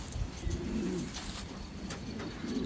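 Pigeons coo softly in low, rounded bursts across a steady outdoor background, with faint chirps and no clear voices, as the birds are let out to fly.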